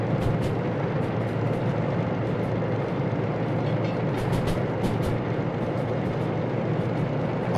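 A train wagon rattles and clatters in the Derail Valley railway simulator game, a steady loud rolling rumble with scattered metallic ticks and knocks running continuously, no voices.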